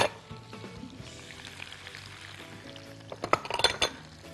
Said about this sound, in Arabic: هحط اشوح الخضار بتوعي تشويحه بسيطه، البصل والفلفل الملون